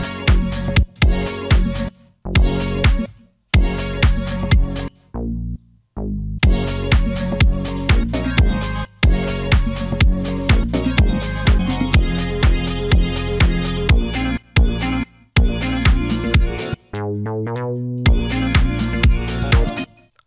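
Mini Moog emulation bass line playing under a sample: a steady rhythmic run of punchy synth bass notes with chopped gaps, full and loud, no voices.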